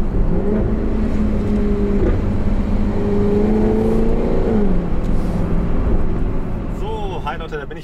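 Jaguar F-Type R coupé with a 551 PS engine, heard close and loud while driving, its droning engine note climbing and falling through revs before easing off at the end.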